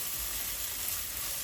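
Gola kebab masala with garam masala and black pepper sizzles in a pan while being stirred, a soft, even frying hiss with low scraping underneath and no voices.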